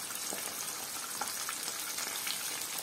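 Bran-coated liver frying in a pan, with a steady soft sizzle and faint crackles as pieces are turned over, no voices present.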